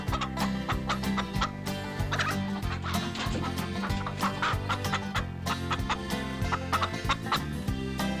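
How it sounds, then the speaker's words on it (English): Chickens on a grandpa's farm, including a big rooster, clucking in a busy, continuous flock chorus close by, with steady overlapping calls and no talking. "Look at the chickens."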